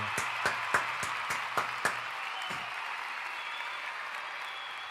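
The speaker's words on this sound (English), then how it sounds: "That one will get a little round of applause." A short, scattered smattering of a few claps during a wrestling review livestream, light and sparse over a steady hiss, dying out after about two seconds.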